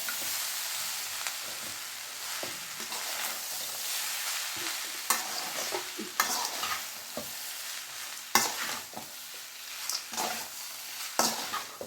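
Leftover rice being stirred and tossed in a pan on a medium flame, with a soft continuous sizzle broken by repeated scraping strokes of the spatula, close and fairly quiet.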